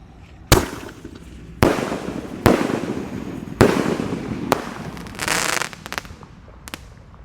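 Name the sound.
blue firecrackers being set off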